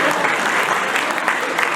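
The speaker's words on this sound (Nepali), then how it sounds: "ताली बजाउनुहोस्" A crowd at a stage comedy show breaks into loud, dense applause, steady and close throughout the short burst.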